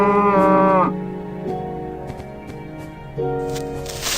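A cow in the video game Minecraft, Alpha 1.1, lets out a loud, close moo at the start and another shorter moo near the end, with quieter game sounds between.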